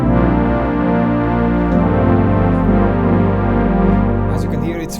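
A lush Matrix Soft Strings patch on the SonicProjects OP-X PRO-II synthesizer, a sustained, loud chord pad swelling and shifting smoothly between notes with no talking over it.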